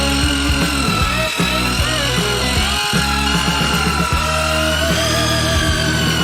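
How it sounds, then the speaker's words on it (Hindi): A construction mixer grinds and whirs loudly and continuously, its motor straining in uneven bursts as it churns a thick gummy candy mixture for a giant gummy worm. "इसे अच्छी तरह से मिलाने के लिए हम इस तरह के कंस्ट्रक्शन मिक्सर का उपयोग करेंगे।"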